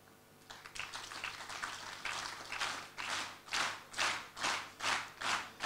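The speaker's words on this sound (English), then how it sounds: "I want you to clap synchronously together." An audience at a talk begins with scattered clapping that quickly locks into unison, ending in a run of loud, evenly spaced group claps about twice per second.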